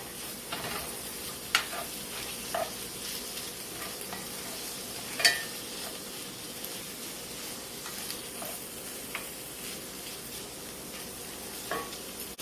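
Basil corn salad ingredients being stirred and mixed in a bowl, a steady soft scraping and rustling with occasional sharper clinks of the utensil, close and alone without talk.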